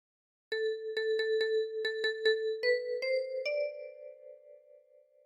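A phrase of What Shall We Do With the Drunken Sailor played on a ten-key kalimba: a quick run of repeated plucked metallic notes stepping through a few pitches, the last ones left to ring out and fade, close and alone.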